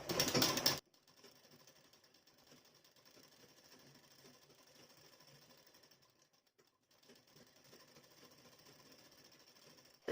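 A sewing machine runs in a steady fast whirr while stitching a folded edge of boat-neck blouse fabric, pausing briefly midway before resuming, with sharp bursts at either end.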